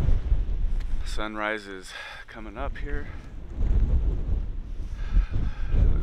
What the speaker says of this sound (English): It is windy, windy, windy, windy.